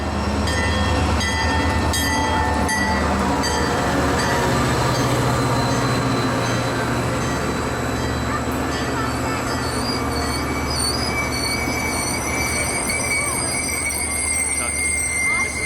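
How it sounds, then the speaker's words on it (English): The CSX Clinchfield Santa train, ten cars up from Jacksonville, rolls loudly around a curve into St. Paul. Steady heavy rumble runs throughout, with sustained high wheel squeal building over the pass and crowd voices mixed underneath. "the lead engine of the Santa train rounds the curve into St. Paul"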